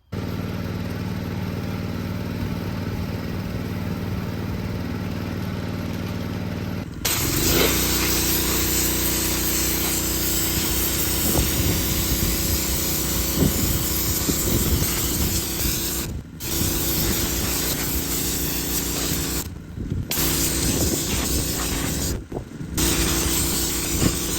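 Paint hisses from a spray gun or aerosol onto a Corvair differential case in a workshop: a loud, continuous spraying rush that steps up in intensity partway through, broken by several brief pauses between passes.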